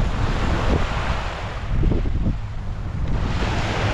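Sea waves wash along the shore at Mission Bay, Auckland, a broad, steady surf rush with heavy wind buffeting the microphone during drizzly weather.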